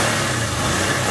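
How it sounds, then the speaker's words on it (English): A 2011 Kawasaki Teryx Sport SE's 750cc fuel-injected V-twin engine runs steadily, a loud, continuous close-up rumble with no break. "this is a 750cc V-twin fuel injected motor. We'll crank it up for you"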